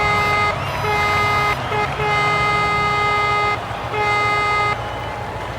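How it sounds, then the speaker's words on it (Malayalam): A Volkswagen car horn honks in three sustained blasts, loud and close, with short gaps between them. "ഇതിൻ്റെ ഹോൺ ഏതായിരുന്നു? ഇതിൻ്റെ ഹോൺ അടിയോ?"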